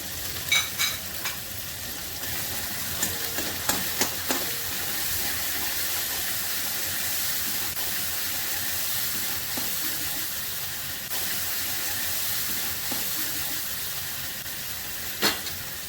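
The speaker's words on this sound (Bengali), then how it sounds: "মশলাটা অল্প ভাজছি।" A paste of mustard, poppy seed and green chili with turmeric, salt and chili powder fries in a pan, a steady hiss broken by a few sharp clicks of stirring.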